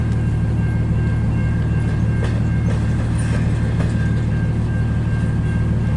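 A long CN double-stack intermodal freight train rolls through Kimball Township, Michigan, producing a steady, loud low rumble with faint metallic clanks and squeals from the wheels and cars.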